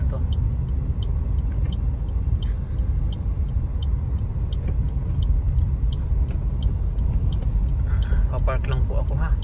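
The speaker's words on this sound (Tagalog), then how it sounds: "Papark lang po ako" Steady low rumble of a car engine idling and creeping while looking for a parking spot at a mall lot, continuous and close, with faint ticking and a brief rattle near the end.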